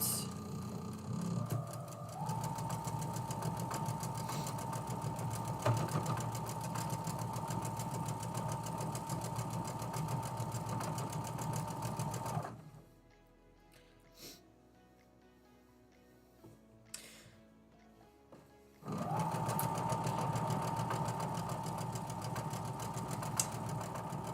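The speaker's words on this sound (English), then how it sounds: "when I'm sewing on my machine" A sewing machine runs with a steady, close motorized hum and fine rapid needle chatter, stops for several seconds of near quiet with a few small clicks, then starts up again at the same pace.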